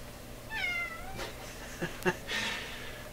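A cat lets out a couple of soft, rising meows nearby, followed by a few light taps and rustles.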